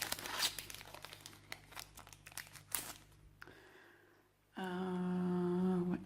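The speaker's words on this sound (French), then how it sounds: "j'avais pas réussi à avoir ce booster. On va l'ouvrir différemment" A Pokémon card booster pack is opened, with loud crinkling and tearing of foil wrapper in irregular bursts, then a pause and a brief steady hum at the end, with no talking.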